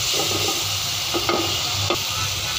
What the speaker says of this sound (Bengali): মশলাটা ভালো মতো কষাতে হবে যাতে এর কাঁচা গন্ধটা না থেকে যায়